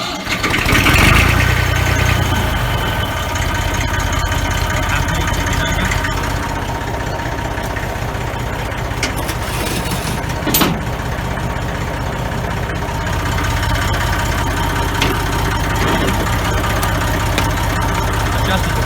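A Massey Ferguson 35 diesel tractor cranks and fires at half throttle, then settles into a steady, loud, close idle that runs throughout with a brief sharp knock midway.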